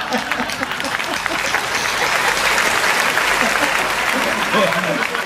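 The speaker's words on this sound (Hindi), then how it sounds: "यार ताली बहुत कम बजा रहा हूं" Audience applause at a Hindi kavi sammelan poetry event, a crowd clapping steadily and loudly, with voices murmuring and talking underneath the clapping.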